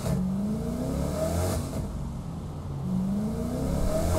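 A car engine revs hard in Saints Row: The Third, loud and continuous, with rising gear sweeps that climb, drop and climb again over a steady low rumble.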